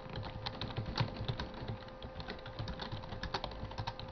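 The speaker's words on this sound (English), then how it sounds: "let me go type in the Roblox." A computer keyboard clatters under fast, steady typing, with dense overlapping keystrokes continuing throughout and no voices.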